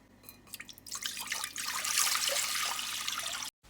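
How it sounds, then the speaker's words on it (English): Water runs and splashes while split peas are washed in a kitchen, starting with scattered drips and small splashes, then a steady rushing stream from a tap before cutting off abruptly. "I washed the split peas and I'm soaking it for a little bit."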